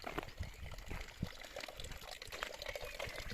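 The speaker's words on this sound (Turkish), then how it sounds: "Kendi kendine şirir şirir akıyor." Water trickles steadily from a modest mountain fountain into its troughs, a soft continuous splashing and dribbling with faint outdoor background and no speech.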